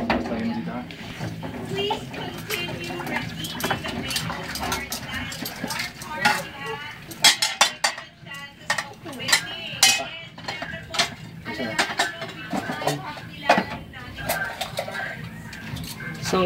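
Dishes clink and cutlery rattles against plates as they are scrubbed, with steady clattering and scraping under nearby voices talking.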